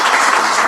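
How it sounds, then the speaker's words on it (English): Dense audience applause at a business opportunity presentation in Vegas, a brief burst of many hands clapping, loud and continuous. "give me a round of applause"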